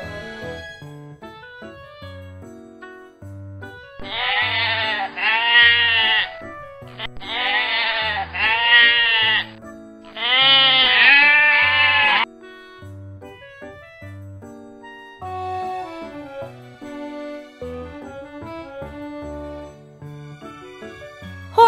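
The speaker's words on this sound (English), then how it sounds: "Goat, G-O-A-T, goat." A goat bleats in three loud, wavering bursts close by, set against light background music.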